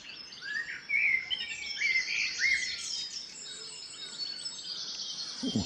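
A blackbird sings in a park at dawn, clear bright whistled phrases repeating over a chorus of other birds and insect-like chirping, fairly near.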